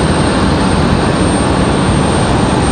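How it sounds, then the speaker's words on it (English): An Airbus A319 rolls at Raleigh Durham International Airport, giving a loud, constant jet engine roar that stays steady and unbroken throughout, with no talk. "Got another A319 rolling out there."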